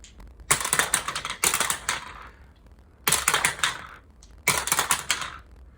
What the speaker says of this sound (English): I get to roll 5 dice here